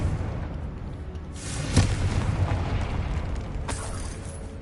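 A Confringo spell detonating in Hogwarts Legacy, a sharp blast near the two-second mark over a dense rumbling game background, with a fainter second burst later.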